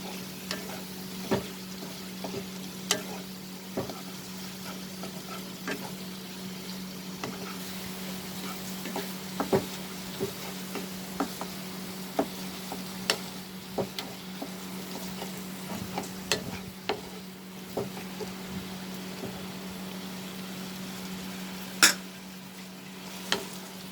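A spoon stirs prawns keema frying in a pan, a steady low sizzle running throughout with scattered small scrapes and clicks of the utensil against the pan.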